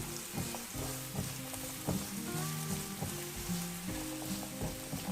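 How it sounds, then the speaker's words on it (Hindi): Chopped onion sautéing in oil in a frying pan for potato patties, a steady broadband sizzle with soft stirring clinks and utensil scrapes throughout, close and moderately loud, no voices. "अब इसमें मैं 1 अनियन चॉप किया हुआ वो ऐड करूँगी और इसको आपने हल्का सा सौटे करना है।"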